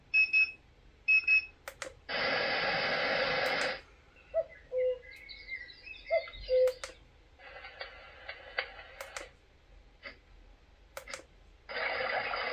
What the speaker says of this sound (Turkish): 7 adet alarm sesi seçebiliyorsunuz